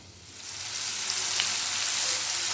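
Bitter gourd pieces frying in groundnut oil, a steady close sizzle that swells slightly as more pieces go into the pan.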